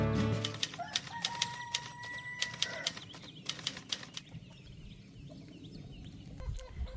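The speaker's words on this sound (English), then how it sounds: "I am out here taking care of the chickens this morning" Chickens cluck and flutter nearby in the morning on a rural Alabama farm, with bursts of wing flapping and scattered sharp calls over a quiet outdoor background.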